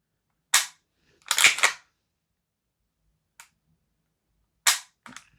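Tokyo Marui HK45 airsoft pistol firing, close and loud: several sharp separate cracks spaced irregularly, one a quick double, with faint trigger clicks between and silence around them.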